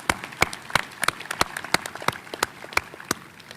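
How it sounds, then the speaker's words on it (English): A commencement audience at UW-Stevens Point claps for the outstanding students, the sharp claps sparse and spaced, a thin scattered applause rather than a full ovation. "Let's give these outstanding students a round of applause."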